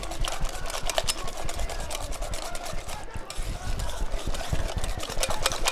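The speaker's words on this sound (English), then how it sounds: "So you're just going to whisk that together" A whisk beats shawarma marinade in a bowl, giving close, quick scraping and clicking strokes in a steady, busy rhythm that carries on for several seconds.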